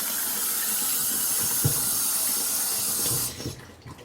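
Water rushes steadily into the tub of a Danby twin-tub washing machine with a broad hissing pour, close by, then cuts off abruptly near the end, leaving faint low sounds.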